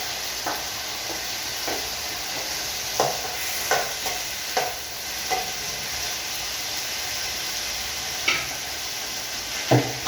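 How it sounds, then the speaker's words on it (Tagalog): Tomatoes are stirred in a hot pan until soft: a steady sizzle runs throughout, with a spoon scraping and clinking against the pan every second or two, close and moderately loud, with no talking. "Halo na natin para gagawin muna natin ang kamatis yung parang lumambot na siya."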